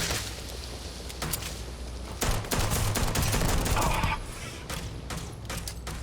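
Bursts of .45 gunfire in the Starfield video game, rapid shots in a dense loud volley under background game noise.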